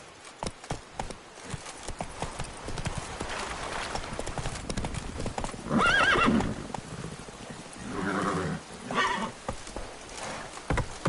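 Hooves of the horse Roach clip-clop steadily as it gallops through The Witcher 3, with brief neighs and whinnies cutting through, loud and close, while rain patters faintly in the background.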